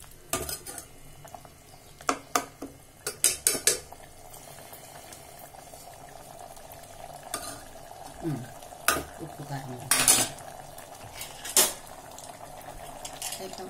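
Avarakkai pulao being stirred in a pot: scattered metallic scrapes and clanks of a spoon against the pot over a low bubbling simmer, close by, with quieter stretches between bursts of stirring.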